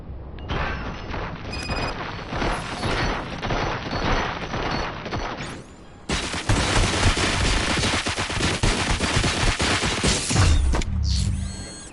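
Sustained gunfire from the RoboCop video game: dense rapid shots and bursts with mechanical clatter and booms, loud and continuous for the full stretch, briefly thinning midway before resuming heavier, with no speech.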